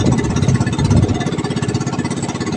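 A small engine on a boat at sea in a strong north wind and choppy water, chugging loud and close with a fast, steady pulsing knock throughout.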